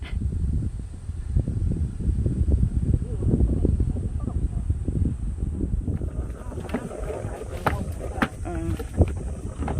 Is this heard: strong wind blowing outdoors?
yes